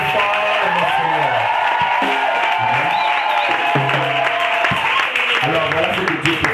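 A church congregation applauding and cheering during a service, steady clapping and whoops that carry on throughout, mixed with voices and music.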